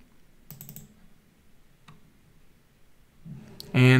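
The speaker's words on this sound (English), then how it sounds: "So you can type sharing and click on sharing." Light typing on a computer keyboard with a few mouse clicks at a desk, a short cluster of quick taps early and a lone click mid-way, faint and sparse before a sudden loud burst of other sound at the end.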